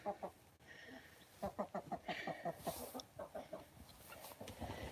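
Backyard chickens around their nesting boxes cluck in short rhythmic bursts, close and fairly loud, with several hens calling one after another through the whole stretch.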